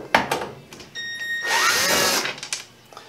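A power driver backs long screws out of a Samsung washer, with short close bursts of motor whine followed by one longer sustained run and a few brief trailing spins.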